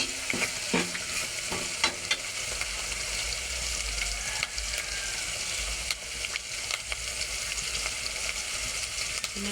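Onions fry in a pan, giving a constant close sizzle, with a few sharp scraping stirs near the start and scattered spoon clinks.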